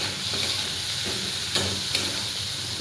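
Prawns fry in a pan with a steady, bright sizzle and hiss, broken by a couple of soft stirring scrapes, close up and with no one talking.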